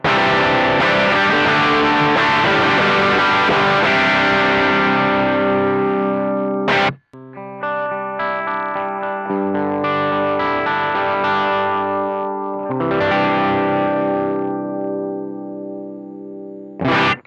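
A thick, bass-heavy overdriven electric guitar through a BOSS BD-2W Blues Driver pedal in custom mode rings out in loud chords and phrases, pausing once briefly before continuing, alone and close up.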